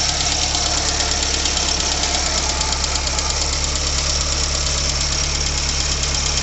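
A 1980 Mini 1000 Automatic engine runs steadily just after start-up, a constant close idle with a low knocking throb and engine vibration, no voices.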